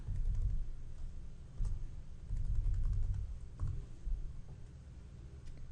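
Keys clack on a computer keyboard as a login ID and password are entered, in uneven bursts of close, soft keystrokes with short pauses between groups.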